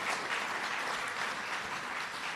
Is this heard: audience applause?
yes